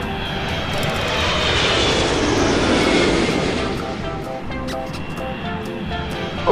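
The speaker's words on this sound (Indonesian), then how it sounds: "Wadidaw, ada pesawat terbang." Toy airplane sound effect, a continuous airy propeller-engine drone that swells in the middle and then eases off, heard fairly close and alone.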